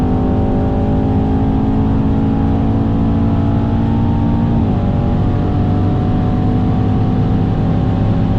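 A 2017 Mercedes-AMG E63s with 612 hp accelerating hard on a highway, a loud, steady engine drone heard from inside the car, pitch climbing then dipping briefly at a gear change before pulling on.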